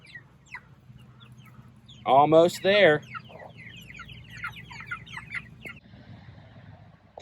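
Cornish Cross meat chickens on pasture in a moved tractor cluck with a loud burst near the middle, surrounded by softer scattered clucks and chirps, while a person speaks briefly.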